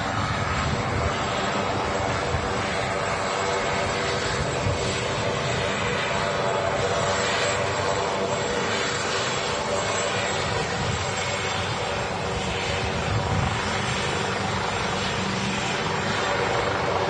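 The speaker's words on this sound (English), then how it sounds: "Helicopter at Manchester is really rare." A helicopter at Manchester Airport gives a steady, loud engine and rotor roar that holds for the whole stretch, with people talking over it.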